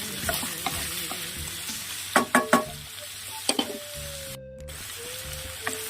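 Onions sautéing with cinnamon and cloves in a pan over medium flame give a close, steady sizzle with a few sharp spoon clinks against the pan and a brief gap of silence.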